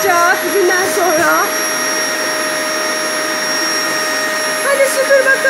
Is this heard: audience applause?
no